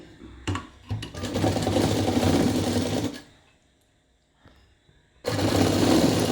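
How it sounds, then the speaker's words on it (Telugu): A sewing machine runs close and loud, stitching thread piping onto fabric in two bursts separated by a pause of about two seconds. "ఇలా పెట్టుకొని ఇలా కుట్టు వేసేసుకోవడమే"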